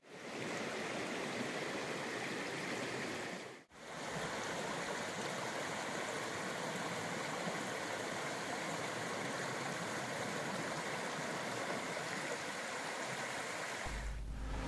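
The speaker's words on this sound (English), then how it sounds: "Made it to the South Fork of the Trinity River" The South Fork of the Trinity River in Trinity National Forest, Northern California, rushes in a steady, full wash of flowing water, unbroken except for a brief dip early on.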